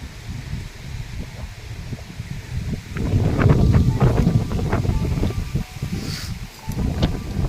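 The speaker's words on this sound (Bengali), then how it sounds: "হাওয়া হচ্ছে।" Wind blowing across an open outdoor spot in nature at Mayapur, a rough rumbling gust that swells in the middle and buffets close to the microphone.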